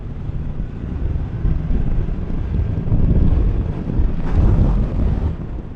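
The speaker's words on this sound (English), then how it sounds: "It's very windy." Strong wind buffets a rider on a Yamaha MT10SP motorcycle near Coniston in the Lake District, a loud, low, rumbling roar that swells and eases in gusts, close and continuous with no talk.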